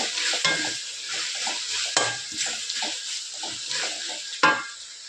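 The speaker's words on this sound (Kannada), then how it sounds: "ಟೊಮೊಟೊ ಎಲ್ಲ ಚೆನ್ನಾಗಿ ಬೇಯುತ್ತೆ." Sliced tomatoes cook in a pan with a constant close sizzle, punctuated by rhythmic scraping and occasional sharp knocks as a spoon stirs them.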